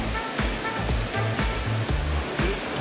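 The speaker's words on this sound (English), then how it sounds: "Lots of lovely white water coming down today." White water rushes down at a swimming hole in Belmont, Wellington, a loud continuous roaring wash with some low pulsing surges, close by and with no talking.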